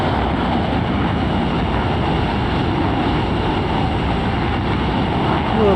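Steady, loud roar of an F-15 fighter jet during touch-and-go landing practice on a runway, a continuous broadband rush with no clear variation across the clip.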